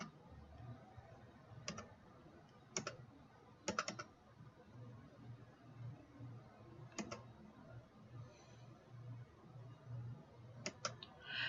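Sharp, isolated clicks of a computer mouse, a few at a time and spaced unevenly, sit close and fairly quiet over a steady low room hum with no talk.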